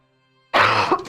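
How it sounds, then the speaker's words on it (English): A single short, rough cough or throat-clear bursts out after half a second of near silence, close and fairly loud, then cuts off abruptly. "I've been coughing so much, my voice is raw"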